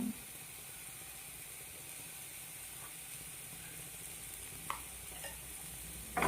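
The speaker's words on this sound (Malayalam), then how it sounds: "നന്നായി മിക്സ് ചെയ്തെടുക്കാം" Salted food being mixed in a frying pan, a quiet steady sizzle with occasional scraping stirs and a sharper clink near the end, close by and without talk.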